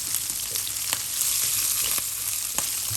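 Pork belly fries in its own rendered fat, giving a close, constant crackling sizzle with occasional sharper pops.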